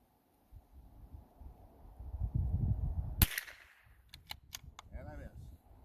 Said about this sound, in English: I'm just going to shoot a close target there at 30 yards or so offhand